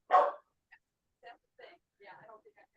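A pet dog barks at someone cleaning office windows outside, one loud sharp bark followed by several softer, scattered yips and whimpers, close by with no talk.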